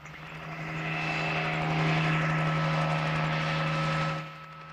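A BLM helicopter chasing wild horses during a roundup drones overhead in a steady rotor and engine roar that swells, holds loud, then fades slightly toward the end.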